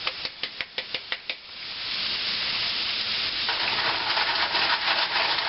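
Italian-style stuffed mushroom filling hits a hot pan on a burner with a few quick knocks, then settles into a steady loud sizzle that keeps on frying, with no one talking.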